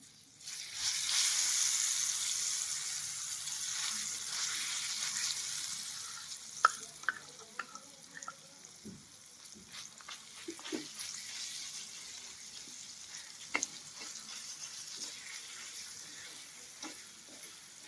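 Spices for tempering sizzle loudly in hot oil, then settle into softer clinks and scraping as the mixture is stirred into a chutney, with scattered sharp taps from the utensil.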